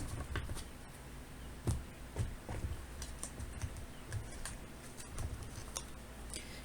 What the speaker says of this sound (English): So we'll shuffle and pull a few cards.